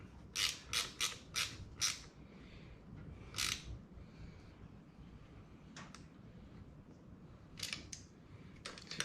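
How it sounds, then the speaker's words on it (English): An 8mm wrench snugs a handguard bracket on a 2019 Can-Am Outlander ATV, producing a quick run of crisp close ratcheting clicks, then more sparse clicks later against a quiet outdoor background. "get my 8mm out here again and snug this bracket up."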